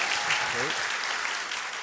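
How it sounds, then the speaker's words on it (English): A live audience claps warmly and continuously for guest Stevie B, a dense, even burst of applause with a voice briefly audible underneath. "a very, very warm round of applause for Stevie B"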